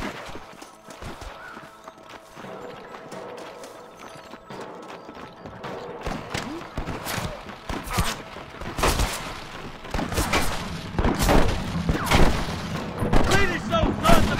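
Repeated gunfire in a Western shootout in the video game Red Dead Redemption, with sporadic shots that grow denser and louder toward the end, mixed with other game sounds and clatter.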